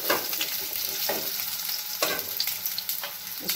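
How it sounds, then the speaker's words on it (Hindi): Cut potatoes fry in oil in a kadai for a jackfruit curry, a constant close sizzle with periodic scraping stirs, heard alone. "अब इसमें मैं पहले आलू जो काट के रखी थी इसको मैं पहले फ्राई कर लेती हूँ थोड़ी देर।"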